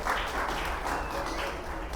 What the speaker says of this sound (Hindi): तालियां बजाओ प्रभु के लिए।